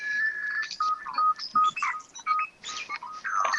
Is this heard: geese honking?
no